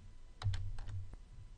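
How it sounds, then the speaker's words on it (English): Computer keyboard keys pressed for a Ctrl plus C copy shortcut, a few quick, quiet clicks close by in a silent room. "press Ctrl plus C on your keyboard"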